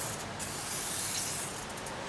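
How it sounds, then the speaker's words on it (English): Lubricant sprayed into an older Craftsman snowblower where plastic meets rusty steel, a steady close aerosol hiss running unbroken for about two seconds. "Spray a pile in there and let it migrate and move around like it does"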